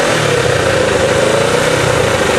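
Motorcycle engine powering a go-kart, revving loudly and close by in a continuous buzzing roar with no voices.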